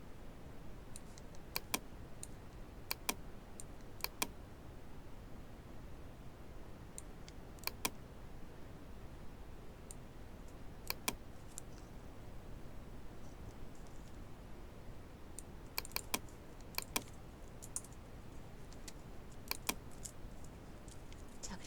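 Keyboard shortcut keys are pressed on a computer while editing images in Photoshop, giving sparse, quiet clicks in small scattered clusters against a faint background hiss. No voices are heard.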